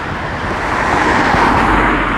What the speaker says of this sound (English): I'll just wait for a break in traffic here to cross